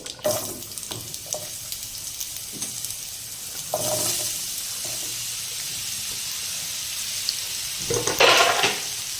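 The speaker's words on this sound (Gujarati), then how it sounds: "થોડું સંતળાઈ જાય આ બધું એટલે આપણે તેમાં કેરીના પીસ ઉમેરી દેવાના છે।" Mango pieces go into a pan of oil with asafoetida and sauté with a soft, continuous sizzle, broken by light stirring knocks and a brief louder hiss near the end.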